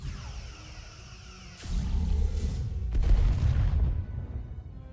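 Starship weapons firing in the Star Trek Resurgence video game, two heavy booming blasts with whooshing rumble, the second louder and closer, fading out at the end.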